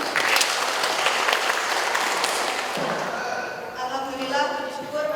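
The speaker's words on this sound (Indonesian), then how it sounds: "Tepuk tangan buat kita semua." An audience at the opening ceremony of the Climate Innovation Generation Program 2024 applauds with a dense, steady clapping that tapers over the last couple of seconds as a voice comes in.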